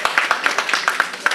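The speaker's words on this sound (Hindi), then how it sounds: "नारी शक्ति के लिए एक बार जोरदार तालियां" An audience at a Jain International Trade Organisation event in Erode claps for women's power, a short burst of distinct, fairly close hand claps in an uneven rhythm, loud and brief.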